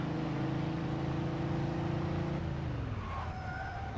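A BMW 530D E39 driving in Mafia II, its engine droning steadily with a strong low hum and road noise, then the pitch sliding as it shifts or decelerates toward the end, close and loud throughout.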